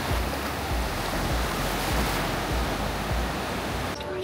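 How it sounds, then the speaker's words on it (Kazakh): Ocean waves from the Indian Ocean off the Sri Lanka coast crash and roll in a constant, loud surf roar, with wind buffeting the microphone and no voices. "Кешке қарай толқындар күшейіп жатыр,"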